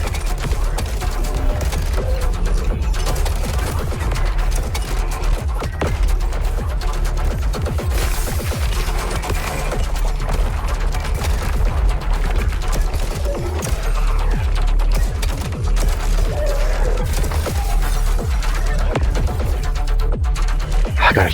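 Semi-automatic gunfire rings out in the shooter game VOID/BREAKER, a dense, continuous barrage of sharp shots and impacts over a heavy low rumble, loud and sustained throughout with no pause.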